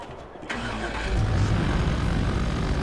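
A vehicle engine in the game Red Faction Guerrilla starts with a sudden crank, then settles into a loud, steady rumbling idle.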